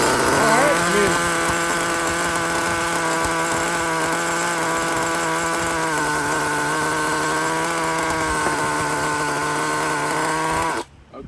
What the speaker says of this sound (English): let's see if it continues to start up